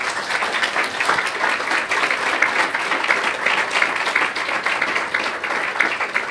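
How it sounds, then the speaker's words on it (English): A room of attendees at a congressional staff briefing applauds the presenters with steady, dense clapping that holds at an even level throughout, with no voices standing out. "give our presenters a round of applause"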